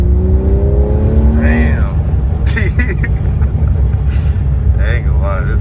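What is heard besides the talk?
Mercedes C43 AMG turbo V6 accelerating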